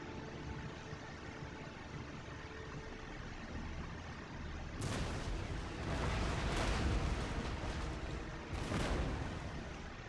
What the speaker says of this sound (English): the Delhi horsemen are taking some damage from my artillery